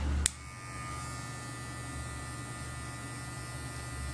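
Electric hair clipper with a medium guard and its lever set down, buzzing steadily and close after a brief click at the start, used in a barbershop for a razor-finished fade haircut.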